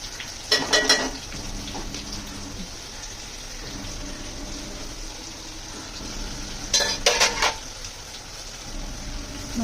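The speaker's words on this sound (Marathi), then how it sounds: "मसाले परतून घेऊया जरा." Dry ground spices fry with tomato in a pan under a low, steady sizzle, and two brief bursts of spatula scraping and stirring stand out against it.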